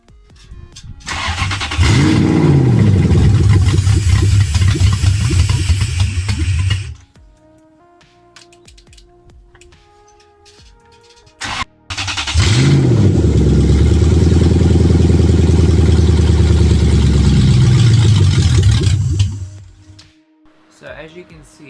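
A Toyota 3UZ-FE V8 swapped into a Mercedes W203 C230 Kompressor Sport Coupe cranks and fires twice. Each time it roars for several seconds, then dies from fuel starvation, with a quiet gap between the two runs.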